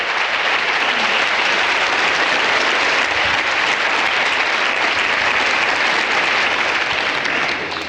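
Sustained congregational applause at a church service fills the whole span as a dense, steady wash of clapping, loud and even throughout, fading slightly only at the very end with no voices on top.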